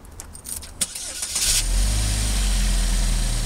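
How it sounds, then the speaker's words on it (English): A 2011 Chevy Equinox engine cranks and catches after some light clatter, then settles into a steady, deep, rumbling exhaust idle that continues loudly to the end. "Let's listen to how that exhaust sounds."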